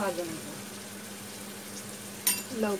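Onion frying with turmeric in a pan for vegetable biryani, a steady soft sizzle running throughout, with a brief sharper burst near the end and a voice speaking over the cooking.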